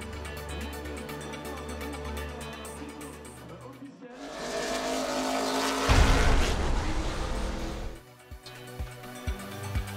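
Alpine A110 GT4 and Aston Martin Vantage GT4 race cars at Spa in the French FFSA GT championship, engines droning and surging loudly as cars pass, with a roaring swell in the middle and a commentator talking over it.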